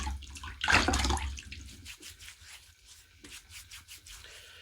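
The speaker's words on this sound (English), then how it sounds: "I'm going to get my face wet, get some shave oil on it for pre-shave" Water splashed onto a face before a wet shave: a loud burst of splashing and rubbing near the start, then softer dabbing and wet rubbing sounds, close and with no talk.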